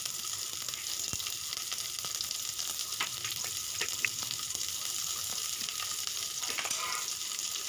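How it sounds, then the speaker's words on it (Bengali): Chopped onion sizzles steadily in hot oil in a wok, a constant bright frying hiss with occasional scrapes and clicks of stirring. "এর মধ্যে আমি দিয়ে দেব কেটে রাখা পেঁয়াজ"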